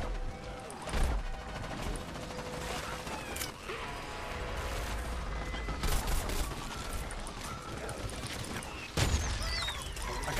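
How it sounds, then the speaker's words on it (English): Weapon fire during a Plants vs Zombies Garden Warfare 2 online match, dense bursts of shots and impacts mixed with explosive crashes over a busy game soundscape, with a player talking now and then. "someone's shooting me from over there"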